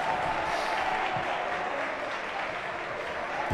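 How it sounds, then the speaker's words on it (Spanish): A football crowd at an Algeciras C.F. versus Real Balompédica Linense match applauds a corner kick, with steady, distant clapping filling the stadium and no talk over it. "como le dice al público, que aplauda ese saque de esquina"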